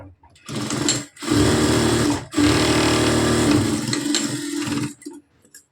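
A sewing machine runs in steady bursts as it stitches the side seam of a blouse, loud and close, with two short stops between runs before it slows and falls quiet.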